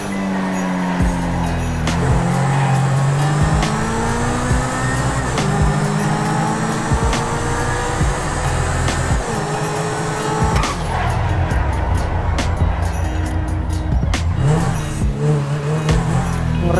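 A Grotti Cheetah supercar in GTA 5 revs hard through repeated gear changes, its engine note climbing and dropping, with brief tire squeals and skids as it brakes and turns.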